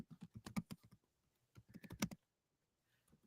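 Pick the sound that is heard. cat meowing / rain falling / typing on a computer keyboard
typing on a computer keyboard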